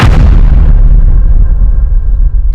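A loud, deep explosion booms and rumbles, filling the moment with heavy low-frequency noise that slowly fades; no voices.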